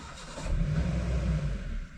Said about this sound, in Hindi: इधर आगे लगा गाड़ी